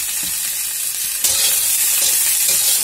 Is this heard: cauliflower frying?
yes